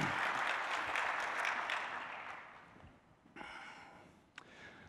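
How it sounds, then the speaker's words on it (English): A conference audience at a geophysics annual meeting gives a round of applause, a dense wash of clapping that fades away over a few seconds before quieter room noise and a soft thump. "So let's give Don a big round of applause for the volunteer registry."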